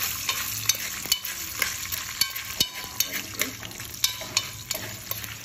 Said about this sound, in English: This is the popcorn right here in the pan. So we add it to the oil right here. And then we stir and cover.